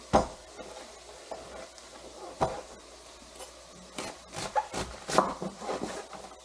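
A knife slices through cored cabbage on a wooden cutting board, giving a handful of sharp, crunchy cuts at uneven intervals over a low rubbing background, close and fairly quiet.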